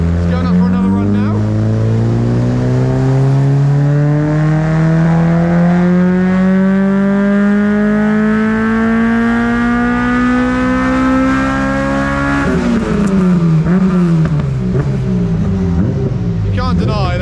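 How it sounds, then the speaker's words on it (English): Honda race car, a Class C trackday entry at Brands Hatch, revving hard on a dyno run, engine pitch climbing steadily through a long high-rev pull before dropping and rising again, loud and close. "You can't deny those Hondas rev forever."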